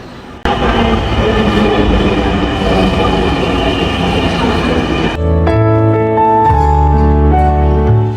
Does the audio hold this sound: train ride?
yes